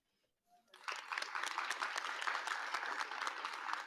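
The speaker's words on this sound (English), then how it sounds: "Would you like to stand so we can give you a round of applause?" Audience at a Black History Month rededication ceremony breaks into applause after a quiet moment, dense, steady clapping rising quickly and holding at moderate loudness.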